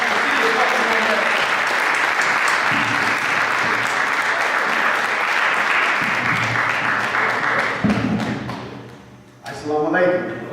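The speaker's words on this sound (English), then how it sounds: "with a warm round of applause" Audience applause greets a speaker at a gathering, a dense, sustained wash of clapping that thins toward the end as a voice begins to speak.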